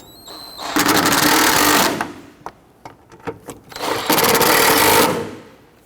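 A power driver snugs down two fuse block bolts on a 2005-2021 Nissan Frontier 4.0L V6, giving two loud, close bursts of whirring about a second long, separated by quieter knocks and handling clatter.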